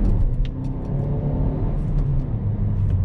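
A Hyundai i30 N Line hatchback engine idles and revs in a throaty, rumbling drone, rising and falling in pitch with a few faint clicks above.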